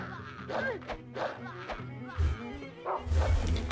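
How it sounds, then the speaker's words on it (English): A dog in the video game Rule of Rose gives several short barks and yips, spread across the clip and mixed with thuds and blows of combat, set against a low droning game soundtrack. "My dog is getting beaten up."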